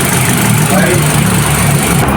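A 2026 Mitsubishi Xpander idles just after starting during a 15,000 km preventive maintenance service at a Shell station, a loud, steady engine hum close by.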